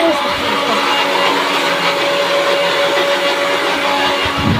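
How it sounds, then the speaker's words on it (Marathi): Kitchen mixer grinder running steadily nearby, a continuous loud motor whine with a sustained tone that holds for the whole stretch, with faint background room noise. "मिक्सर चालू आहे बाजूला."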